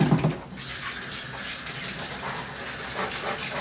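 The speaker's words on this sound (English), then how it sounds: "Rinse in between the toes." Water gushes steadily from a tap as a dog is rinsed in a bathtub, a continuous close splashing and pouring that carries on without pause and with no talk over it.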